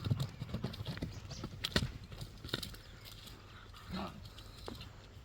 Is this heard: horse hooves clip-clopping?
yes